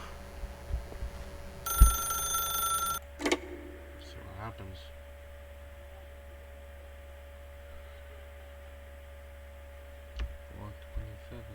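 A telephone in The Stanley Parable video game gives a single, brief electronic ring against a steady low hum, with a few faint clicks afterward.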